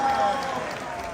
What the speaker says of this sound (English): Big round of applause for our rockets here